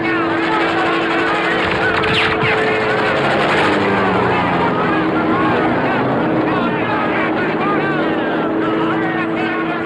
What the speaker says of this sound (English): Plane coming in at 11 o'clock!